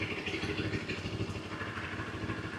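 A CFMoto 700MT motorcycle idles nearby, its engine giving a steady, rhythmic mechanical pulse with a faint clatter, holding constant and alone without talk.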